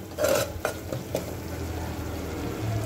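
Spices roasting in a pan for a tangy-sweet drumstick curry, stirred with a utensil that scrapes and clinks against the metal a few times, then a soft steady sizzle continues.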